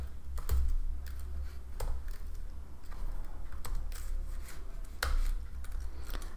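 Quick bursts of keystrokes clatter on a computer keyboard while code is typed, irregular clicks grouped into short runs with brief pauses, close and fairly quiet.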